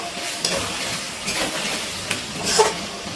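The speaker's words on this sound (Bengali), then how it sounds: "এবার একটু নাড়াচাড়া করে নিচ্ছি।" Chicken darbari being stirred in a pan over a low gas flame, a steady soft sizzle with a few faint scraping strokes of a utensil, close and alone.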